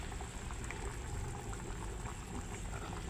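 String beans drop into a boiling pot, heard as steady close bubbling and simmering that holds at an even level throughout, with no talking.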